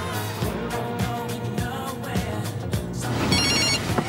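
A telephone bell rings in repeated trilling bursts, loud and close, over a busy background with music-like tones, then gives way to a different higher electronic ringtone.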